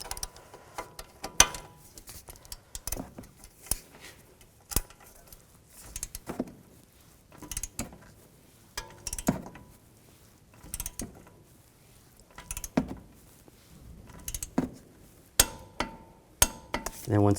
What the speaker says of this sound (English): And grab the torque wrench. And we're going to torque this to 52 foot-pounds.